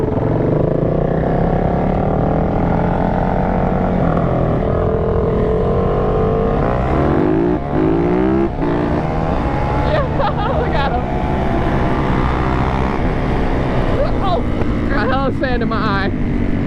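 A Yamaha YFZ quad and a Suzuki DRZ supermoto race on a lot, their engines roaring loud and continuous with rising revs and gear shifts, while excited voices shout over them.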